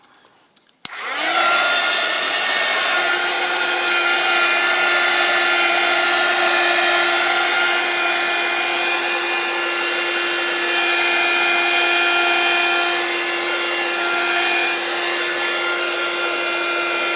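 Spray paint hisses from an aerosol can onto a journal page in a steady, loud, close blast that starts abruptly and runs unbroken with no talking.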